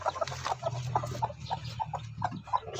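Three newly hatched chicks, from eggs that got wet in the rain, peep repeatedly in quick high chirps over a low steady hum, close and fairly quiet.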